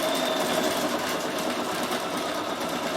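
A Bernina 7 Series embroidery machine stitching outlines, a fast even mechanical whirr with a light rapid tapping beat, close and continuous for a few seconds.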